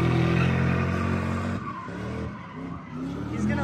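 A car skids its tires at a street takeover, with a loud, sustained tire squeal over a revving engine that dips and swells as it drifts, close by with crowd noise in the background.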